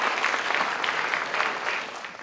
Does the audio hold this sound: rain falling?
no